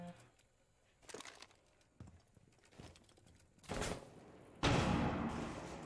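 Gunfire in Rainbow Six Siege during a tense round, several sharp bursts and shots spaced out over a few seconds, the final volley loudest and closest, with no voices.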